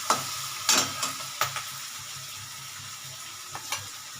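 Potatoes go into a Bengali chicken curry (jhol) masala in the pan and fry with a soft, quiet sizzle, broken by a few sharp clatters from stirring. No one speaks.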